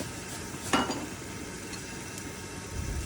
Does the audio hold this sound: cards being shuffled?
no